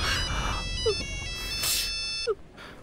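A mobile phone rings with a bright, repeating melodic ringtone in a household scene from a Telugu TV serial, sounding steadily for a couple of seconds while short vocal sounds occur around it.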